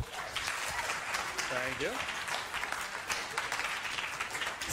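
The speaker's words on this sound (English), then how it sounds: "So please, massive round of applause" Audience applause greets a speaker at a talk on lucid dreaming as a creative tool. The clapping is dense and steady for the whole stretch, and someone briefly speaks over it.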